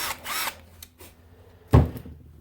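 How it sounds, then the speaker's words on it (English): A DeWalt DCF601 12-volt cordless screwdriver whirs in two short bursts, a half-second spin at the start and a louder, shorter one near the end, with faint handling clicks between and no talk. "DCF 601 12 volt screwdriver."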